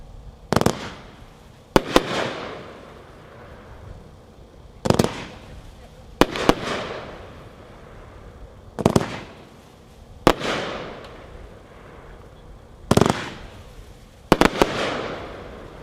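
Red Light District firework cake, 20 shots, fired outdoors as a sharp series of crackling bursts arriving in spaced pairs and clusters, each pop trailing off into a faint rumble.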